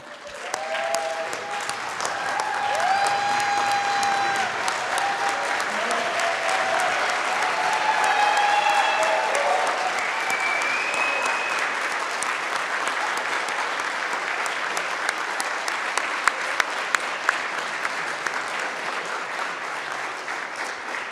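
An audience gives a standing ovation to graduating physical therapy students at a white coat ceremony, with dense, sustained clapping lasting over twenty seconds and a few brief cheers and whistles rising above it.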